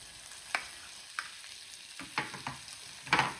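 Chopped onion hitting hot oil with garlic in a pan for foxtail millet manchow soup, giving a few soft sizzling bursts and stirring scrapes against a quiet background.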